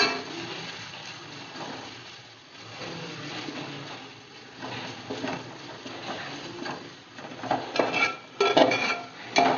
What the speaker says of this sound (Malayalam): ഇഞ്ചിയുടെയും വെളുത്തുള്ളിക്ക് ഒരു പച്ചമണം ഇല്ലേ, അതൊക്കെ പോകുന്നോടം വരെ നന്നായിട്ട് ഇളക്കി കൊടുക്കുക.